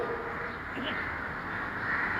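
Crows caw several times in the background of an outdoor evening talk in Bombay, a steady murmur of ambient noise around their calls.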